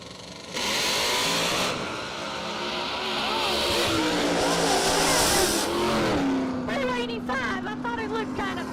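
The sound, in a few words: Camaro drag racing down the strip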